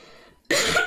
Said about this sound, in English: you probably can hear the cough